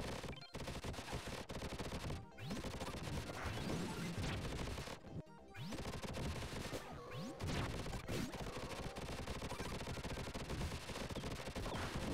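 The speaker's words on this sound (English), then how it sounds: "this is like the machine gun" Machine gun fire in the Sega Genesis game Vectorman, a dense, loud stream of rapid shots and crashing impacts that fills the clip with only brief breaks.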